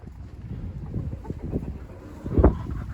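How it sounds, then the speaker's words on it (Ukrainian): Gusty wind buffets the microphone outdoors, rumbling low and uneven with a stronger blast near the end. "Дуже вітряно у нас прям"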